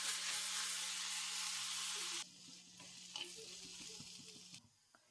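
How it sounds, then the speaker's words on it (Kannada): Onions frying in oil in a home kitchen, a dense steady sizzle that drops in level partway through and continues more softly with a few scrape-like stirring knocks, no voices. "ಈರುಳ್ಳಿ ಒಳ್ಳೆ ಫ್ರೈ ಆಗಬೇಕು"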